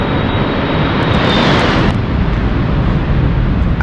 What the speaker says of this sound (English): oh, there's a plane coming in